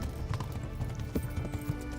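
A horse in Kingdom Come: Deliverance gallops with a rapid, steady drumming of hooves, close and continuous throughout.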